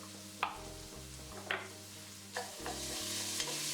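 A whole 6-ounce can of tomato paste sizzles and fries in a pan for chili soup, with a steady hiss, three or four sharp scrapes of stirring, and a low humming tone underneath.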